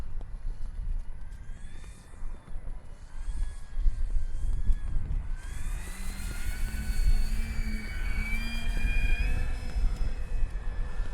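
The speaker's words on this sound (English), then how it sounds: "Haven't flown this plane in a hot minute." An E-flite Beechcraft D18 RC model airplane's high, whining motor drones steadily, its pitch rising and shifting as it flies over constant background rumble.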